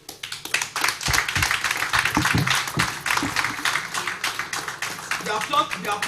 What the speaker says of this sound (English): The applause is too small.